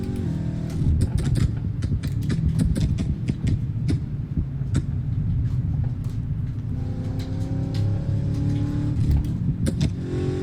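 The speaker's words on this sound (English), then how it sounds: "Alright, we're inside the CTS-V. Much quieter inside, wow." Cadillac CTS-V engine in Assetto Corsa, heard from the cabin: a steady, muffled low rumble with revving swells and sharp gear-change ticks, continuous and fairly loud, with no talking.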